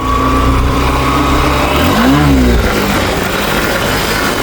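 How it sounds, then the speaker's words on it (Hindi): A low-cc motorcycle engine revs hard at full throttle in second gear for a wheelie, a loud, close, steady roar with a brief rising and falling pitch swing partway through. "अब मैं थ्रोटल पूरा खींचूंगा, देखना पूरा थ्रोटल खींच दूंगा और फिर क्लच छोड़ दूंगा"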